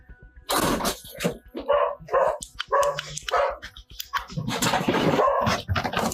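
A dog barks repeatedly in short, loud bursts at close range, with a voice talking in between and over the barking during a police encounter.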